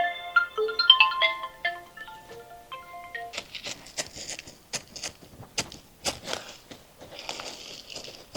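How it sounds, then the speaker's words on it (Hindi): A mobile phone ringtone for an incoming call plays a bright melodic tune, loud and close, then gives way to clicks and rustling handling noises. "तोरे मोबाइल फोन आवता है"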